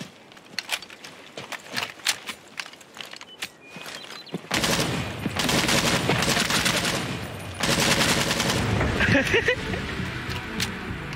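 Bursts of video game gunfire in a racing and hide-and-seek match, starting as scattered sharp shots and swelling into dense, loud, sustained fusillades from about four seconds on, with speech running underneath.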